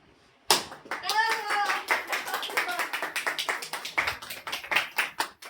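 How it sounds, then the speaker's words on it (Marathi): A small group of people clap their hands together in a brisk, fairly even rhythm at close range, starting abruptly and continuing throughout, with a voice briefly audible early on. "टाळ्या वाजवा."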